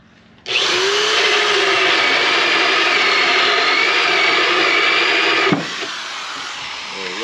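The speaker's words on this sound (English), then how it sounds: "I cut a hole in the middle using this drill." An electric drill cutting a feeding hole in a homemade beehive whines loud and steady for about five seconds, then stops abruptly, leaving a quieter hum behind.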